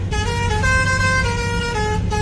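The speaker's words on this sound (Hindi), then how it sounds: "हमारा इंडिया वाला हॉर्न।" An Indian truck horn blares in one long, loud, sustained musical tone, steady and close, with no talk over it.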